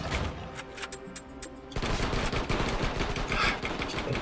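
Rapid gunfire from the video game Attack of the Movies 3D, bursts of loud, dense shots that thicken into a sustained barrage partway through.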